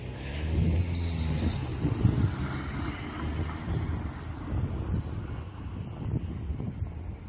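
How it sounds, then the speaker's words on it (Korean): Dump trucks drive in and out of a busy construction site near a building nearing completion, a steady low engine rumble with wind buffeting the microphone, fairly loud and continuous throughout. "쉴 새 없이 덤프트럭들이 들락거리고 있습니다."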